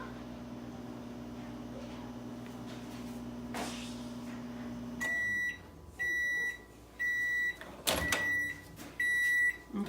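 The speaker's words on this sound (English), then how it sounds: "you can always put some more time on your microwave" A microwave oven melting chocolate hums steadily for several seconds, then a click and a run of repeated loud beeps follow, closely miked.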